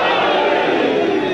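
A large majlis crowd chants a slogan in Ali's name, a dense, steady roar of many voices that holds loud and unbroken throughout.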